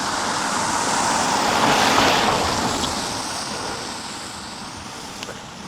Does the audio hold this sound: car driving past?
yes